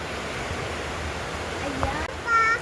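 Heavy rain falls as a steady, dense roar filling the whole moment, with a brief voice and a small clatter near the end.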